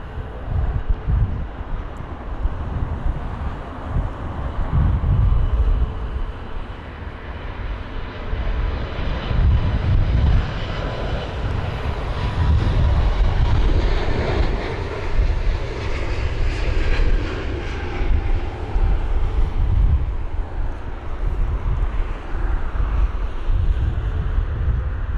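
An airliner approaches and lands at London Heathrow during Storm Kathleen, its engines roaring loudly and steadily for a long stretch while gusty wind buffets and rumbles throughout.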